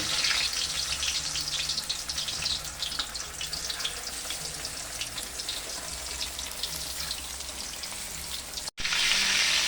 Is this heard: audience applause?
no